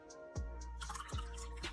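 Liquid is poured into a glass on a breadboard electronics setup, giving a few soft splashing gushes with a low, full trickle between them at close range.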